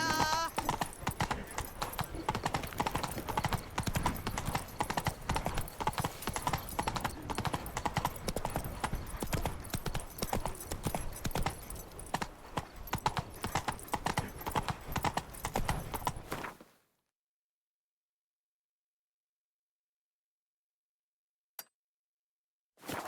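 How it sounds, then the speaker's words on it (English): Horse hooves clip-clopping steadily in The Witcher 3, a continuous close rhythmic trot with faint clinks, running for about sixteen seconds before cutting to near silence. "Whoa there, Roach."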